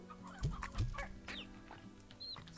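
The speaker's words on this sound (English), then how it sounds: "Oh, what's this thing? Oh, it's a chicken." Chicken in the video game Slime Rancher giving a few soft clucks and short squawks amid quiet background game sounds, faint and close without any talking.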